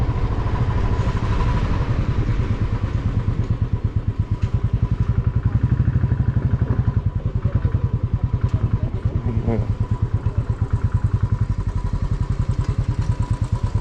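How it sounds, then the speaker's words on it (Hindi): A motorcycle rides a mountain road on the way from Harsil to Gangotri in Uttarakhand, its engine a loud, steady, rapid thumping that runs throughout, with rattles and clatter mixed in. "देखते हैं कहाँ तक ये बाइक जा सकती है"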